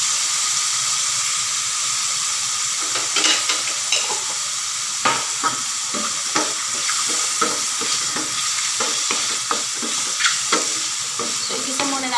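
Mushrooms with a pinch of black pepper sizzle steadily in a hot pan, with a utensil stirring and scraping in irregular bursts over the constant frying hiss, close and moderately loud.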